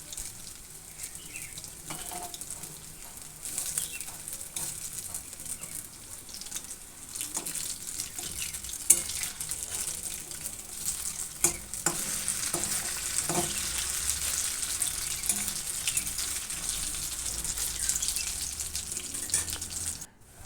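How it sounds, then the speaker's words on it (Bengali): Lentil fritters fry in hot oil in a pan, a continuous sizzle and crackle broken by scraping and tapping as they are turned, close and alone without any voice. "তলার দিকটা এরকম করে উল্টে পাল্টে আমি লাল করে বড়াগুলো ভেজে নেব"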